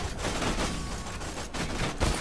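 Dense, sustained gunfire from Borderlands 2, a steady barrage of rapid shots filling the whole moment with a couple of heavier bursts near the end, loud and close with no talking.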